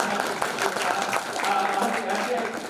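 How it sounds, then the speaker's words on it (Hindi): An audience at an honoring ceremony for Brahmin dignitaries in Jhansi claps steadily through the clip, with voices talking over the clapping. "जरा तालियां बजाते हैं"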